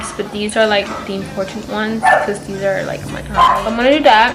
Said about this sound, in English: I'm sorry for the stupid dogs. They're barking.